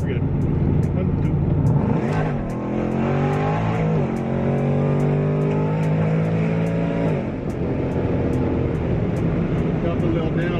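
A built Jeep Trackhawk accelerates hard over a hill, its engine roaring loud and close as it climbs through rising pitch sweeps, easing off and pulling again, while people talk over it.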